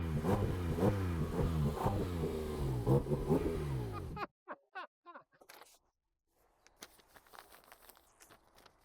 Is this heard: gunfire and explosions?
no